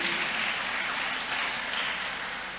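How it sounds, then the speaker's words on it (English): Sustained applause from a university audience honoring the first female Vice Chancellor at the University of Ghana, a dense, even wash of many hands clapping that holds steady and starts fading slightly toward the end. "Our Vice Chancellor, our first female Vice Chancellor, that deserves a round of applause"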